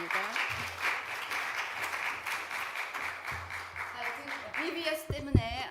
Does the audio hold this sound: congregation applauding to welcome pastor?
yes